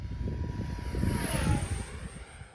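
A LS Planes MB33X model plane with its gyro on, its engine running at full throttle, makes a steady buzzing drone that swells slightly as the aircraft passes nearest and then eases off, with no voices.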